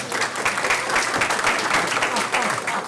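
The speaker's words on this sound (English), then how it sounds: "It's always nice when Mike gets applause." An audience claps at an evening talk about a state park's history, a steady patter of applause across the room throughout.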